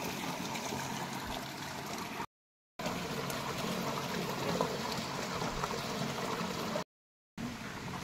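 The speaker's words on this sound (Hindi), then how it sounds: "पानी देखिए सीधे पाइप में जा रहा है" Water pours steadily into the wooden pipe channel of a traditional Uttarakhand gharat watermill, a continuous rushing, gurgling flow at close range with no voices, broken by two short silent gaps.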